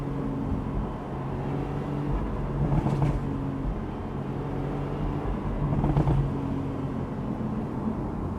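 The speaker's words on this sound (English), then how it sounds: "making this exhaust burble, gurgle, and just give you the gurgles" Porsche 911 991.2 Carrera S Cabriolet exhaust burbling and gurgling while driving, a steady low rumble with two brief swells of revving, no voices.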